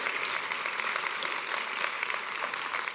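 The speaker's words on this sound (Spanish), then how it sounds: "Dele fuerte un aplauso al Señor." A church congregation applauds loudly and steadily throughout, a dense wash of many hands clapping with no break.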